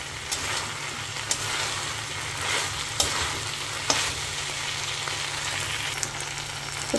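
Steady sizzling of okra frying with poppy seeds in a pan, with a few sharp clinks of a spatula stirring at irregular moments, no voices.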